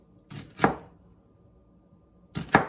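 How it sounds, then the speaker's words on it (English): A knife chopping an onion on a board: two pairs of sharp, close chops separated by a pause, with no talk. "So I'm just going to start by chopping up my onion."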